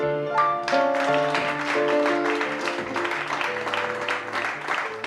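Studio audience on a French television variety show applauds a pianist, a dense, steady wash of clapping that runs throughout over sustained musical tones.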